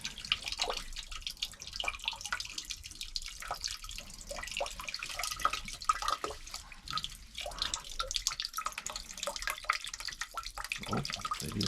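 Water draining from a residential boiler heating system, a continuous splashing trickle with irregular drips and gurgles, close and fairly quiet, running unbroken for several seconds.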